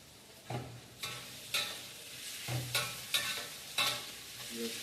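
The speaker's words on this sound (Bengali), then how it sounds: "পেঁয়াজটা ভালো মতো কষাতে হবে।" Onions fry in a pan for a hilsa fish curry cooked in Malaysia, a soft sizzle broken by six or so scraping stirring strokes spaced about half a second to a second apart, close by, with no talking.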